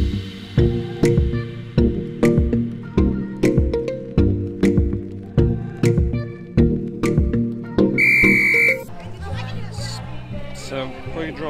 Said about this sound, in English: We just heard the whistle